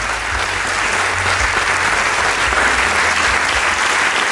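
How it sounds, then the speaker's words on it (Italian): An audience at a fundraising event applauds a couple called to the stage, sustained loud clapping from many hands, steady and continuous throughout. "Facciamo un applauso a Raimondo Frassinetti e a Giulietta Romeo"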